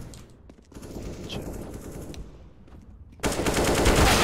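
Gunfire in Counter-Strike: Global Offensive, starting with faint scattered shots and muffled ambience, then a sudden loud, dense burst of rapid automatic fire near the end.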